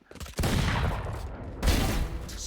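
Sheriff pistol gunfire during a Valorant Game Changers esports match, two sharp loud bursts with rolling echo and chaotic game effects between them.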